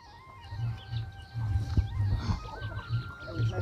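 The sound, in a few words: Asil breed hen clucking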